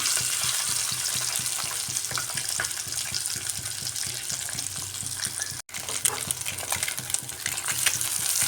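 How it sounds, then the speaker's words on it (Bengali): Steady crackling sizzle of eggs frying in hot oil, close and continuous, with occasional sharper pops and a short break partway through. "একটু কড়া করে ভাজছি ডিমগুলো"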